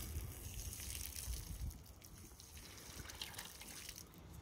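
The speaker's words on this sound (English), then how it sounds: "I'm gonna empty this first bit of water that's here out the pipe" Water pours out of a pipe in a continuous noisy splashing gush, close and steady with no talk.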